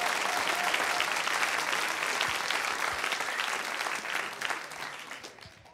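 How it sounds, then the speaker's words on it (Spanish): Loud, sustained audience applause fills the room with dense clapping, holding steady before gradually tapering off toward the end. "Un aplauso."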